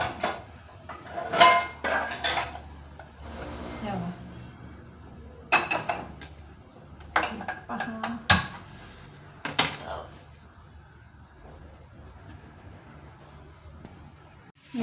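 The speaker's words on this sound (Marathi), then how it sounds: "पहिला पॅन ठेवते." A metal pan bangs and clanks onto a home kitchen stove, ready for frying dry fruits in ghee, with several sharp close knocks and rattles spread out between quieter handling noises.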